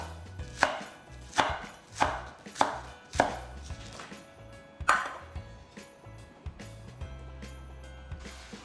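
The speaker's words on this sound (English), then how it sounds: "cut up some of the green parts into smaller pieces for garnishing" A knife chops green parts into small pieces for a noodle garnish, about seven crisp, evenly spaced chops on a board followed by a few softer taps and a quiet pause.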